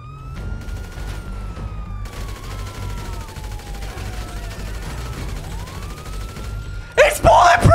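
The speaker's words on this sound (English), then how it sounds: "They're shooting us. We're going to have to shoot them." Gunfire in a GTA 5 shootout, a dense burst of shots and impacts erupting near the end over steady game noise, engine hum and a rising, falling siren-like tone.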